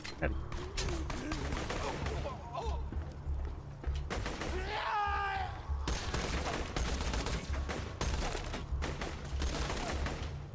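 Video game gunfire, bursts of rapid shots rolling over a constant low rumble, with faint game sounds and a voice talking intermittently.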